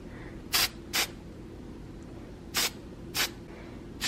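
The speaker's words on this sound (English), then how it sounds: "So now I'm gonna take my hairspray." Four short bursts of aerosol spray hiss close by, irregularly spaced, over quiet background.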